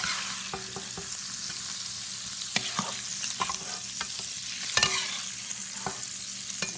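Sausage sizzling in a pan while cooking Bringhe, a constant frying hiss with sparse utensil clicks and stirs, close up and with no talk.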